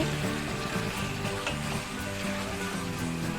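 Chicken wings sautéing in a pan for adobo, a steady dense sizzle and crackle with occasional stirring, close and continuous.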